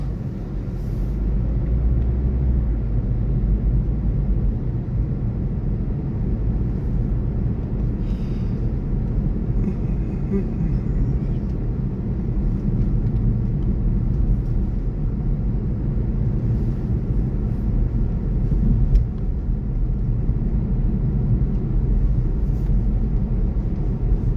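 A car driving over the moors from Colne toward Haworth village, a steady loud low engine and road rumble from inside the cabin, unbroken throughout.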